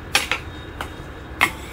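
A pot and dishes clink a few times during a meal, three or four sharp, close metallic taps spaced irregularly over a quiet room background.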